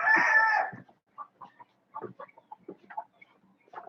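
A rooster crows loudly once, followed by scattered soft clucks and chicken chatter at some distance.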